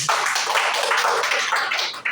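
A gathered audience at a Slim Fit business event claps, a brisk, dense burst of many hands sounding close and steady for about two seconds.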